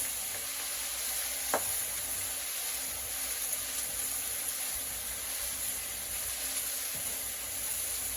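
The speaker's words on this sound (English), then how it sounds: "So my fries are frying." Steady sizzling of fries frying in hot oil, a continuous crackling hiss with an occasional faint pop, no voices.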